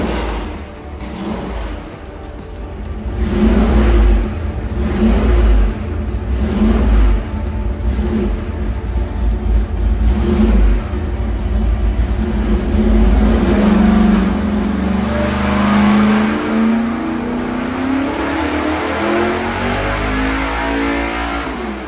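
A Chevrolet Malibu engine with a 750 carburetor runs wide open on a dyno, a loud, close roar that climbs steadily in pitch through a long pull with pulsing exhaust.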